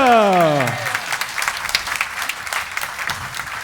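A concert audience applauds the soloists of a wind band, with a held band chord dying away at the start before broad, steady clapping from a sizeable crowd fills the rest.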